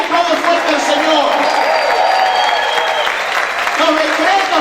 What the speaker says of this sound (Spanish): Grita y aplaude fuerte al Señor.